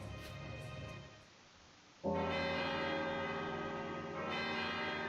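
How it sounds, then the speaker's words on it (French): A church bell in the video game Valkyria Chronicles II tolls with long ringing harmonics, a quieter sustained tone swelling into a loud strike that hangs and decays, with another strike joining near the end; no voices. "Voilà la cloche, les mecs."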